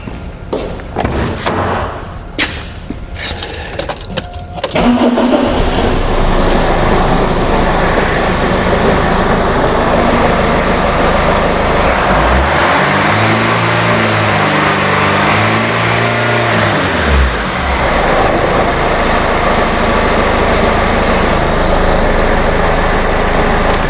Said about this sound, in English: start the engine, accelerate the engine for a little while and then allow it to idle again